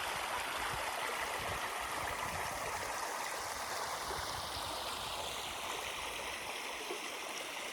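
A forest creek flowing, a steady broad rush and gurgle of water running continuously at close range with no voices heard.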